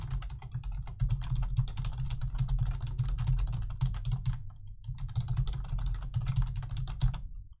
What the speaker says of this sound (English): I got a new keyboard. I don't have it installed yet. It's not as clickety-clackety.